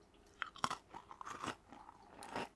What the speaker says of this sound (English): Do I hear chewing?